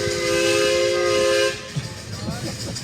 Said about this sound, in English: Gotta love steam whistles.